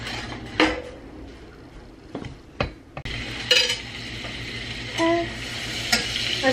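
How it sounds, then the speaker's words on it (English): Butter melts in a pot for an Alfredo sauce, giving a soft, steady sizzle broken by a few clanks and scrapes of a utensil against the pan, heard up close. "I'm just gonna melt some butter"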